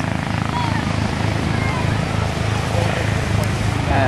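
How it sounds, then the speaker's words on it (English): Coast Guard helicopter passing over a beach, a steady low rotor chop and engine drone under wind and surf noise, fairly distant, with a person talking over it. "There's another helicopter coming across the beach."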